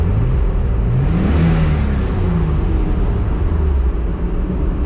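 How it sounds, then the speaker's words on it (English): A turbocharged Nissan 300ZX with no exhaust fitted revs hard while driving under an overpass, a loud, raw, rasping engine roar with rising and falling pitch sweeps, close and alone. "this thing sounds like crap with no exhaust on it"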